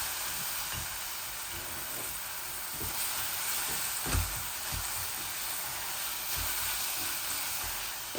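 An onion and egg curry with turmeric fries in a pan, giving a soft, continuous sizzle and hiss with occasional faint ticks and pops, fairly quiet and without talk.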